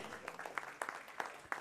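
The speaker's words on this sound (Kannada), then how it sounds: "ಒಂದು ಜೋರಾದ ಚಪ್ಪಾಳೆ" Faint, scattered clapping from an audience at a Kannada ceremony honoring a guest, with a handful of distinct claps over quiet room noise.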